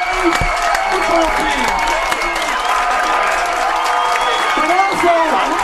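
High school football crowd at an Abington Green Wave game against Mashpee cheering and clapping, a continuous roar of voices and applause heard from a distance with some whoops, as a public address announcer speaks over it.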